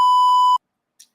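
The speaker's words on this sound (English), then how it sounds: "I don't know what that beeping is." A single sustained electronic beep from a played video rings loud and pure for about half a second and then cuts off, followed by a tiny faint blip.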